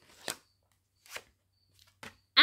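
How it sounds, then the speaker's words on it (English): A deck of playing cards is shuffled in short, soft riffling bursts, three or four brisk papery flicks spaced about a second apart, close and quiet. "And grab from the bottom and shuffle."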